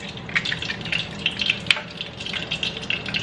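Churro dough mixture sizzles in a pan for a Disney Parks churro recipe, a steady close crackling hiss with fine pops running throughout without pause.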